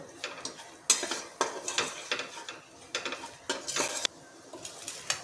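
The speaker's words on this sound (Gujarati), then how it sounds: "આપણે પેસ્ટને બરાબર હલાવતું જ રહેવાનું છે" A spoon stirs and scrapes garlic paste in a pan for lasaniya sev mamra, with repeated metallic clinks and scraping strokes at close range and a faint sizzle underneath.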